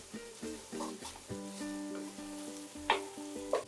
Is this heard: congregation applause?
no